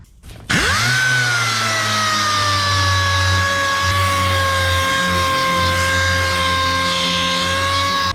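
A power sander spins up sharply and holds a loud, steady, high whine close by while sanding sheet metal for a 1932 Ford wheel well, running continuously for about seven seconds.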